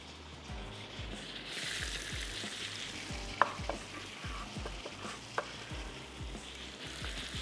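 Onion goes into hot oil with garlic for baingan bharta, frying with a soft steady sizzle while a spoon stirs and scrapes the pan in repeated close taps and knocks.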